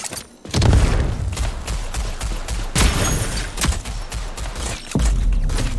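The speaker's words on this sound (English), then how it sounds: "The bomb has been dropped." Bomb blast in a video game, a deep booming burst followed by continuous rumbling explosions and crackling gunfire-like impacts that stay loud throughout the stretch.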